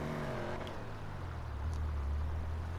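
A car engine in Grand Theft Auto V revs and drones, its pitch sliding down then rising again as it accelerates, fairly close, over a low rumbling background.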